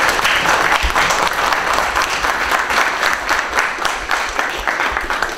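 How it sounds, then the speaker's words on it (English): Audience at a conference talk on a software project's status, clapping in sustained, dense applause for several seconds, fairly loud and close, with no one speaking. "You can clap, if you want"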